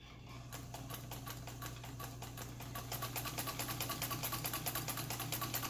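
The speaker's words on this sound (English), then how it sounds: "Okay, we're going to sew." A sewing machine stitching, starting slow and settling into a fast, steady mechanical patter over a low motor hum, close and fairly quiet.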